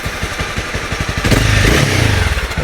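Honda CB300R motorcycle exhaust, close and loud, idling with a steady thumping pulse before a quick rev rises in pitch and then settles back down, with no talk.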